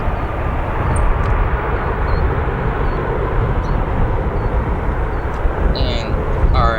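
An Airbus A320 landing at O'Hare airport makes a loud, steady roar of engine and wind noise that holds throughout, with no break or fade.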